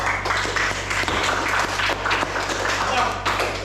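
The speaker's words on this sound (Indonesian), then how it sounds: "Kita beri tepuk tangan untuk semua kelompok." Classroom audience clapping for all the student groups during a lesson, a dense, steady patter of many hands lasting a few seconds, fairly close and loud, with voices mixed in.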